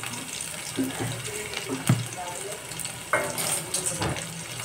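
Crushed garlic cloves and asafoetida hit hot oil, giving a moderate sizzle broken by a few clinks and splashy bursts as they drop and are stirred, close and without talk.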